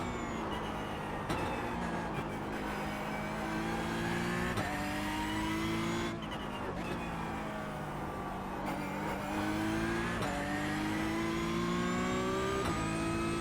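Race car engine in a racing video game on the Nürburgring during an endurance race, revving continuously with repeated upshifts and rising pitch sweeps, loud and steady from start to finish.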